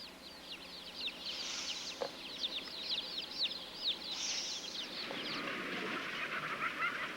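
Dense, continuous high-pitched calls from a crowded flock of hens with clipped bills, a steady chattering din with no voices.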